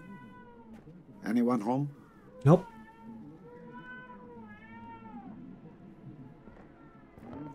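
Cat yowling outdoors in the video game 12 Minutes: a drawn-out harmonic meow wavers through much of the clip, with two louder bursts of vocal sound and a spoken line standing out early on.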